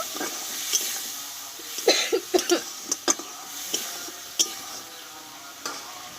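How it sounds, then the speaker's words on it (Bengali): Water stirred into fried spice paste in a pan while cooking jackfruit curry, with soft sizzling and scattered scraping clicks of a spoon against the pan, fairly quiet and close. "এবার এখানে মিক্সিটা ধুয়ে আমি একটু জল দিয়ে দেবো দিয়ে ভালোভাবে একটু মিশিয়ে নেব"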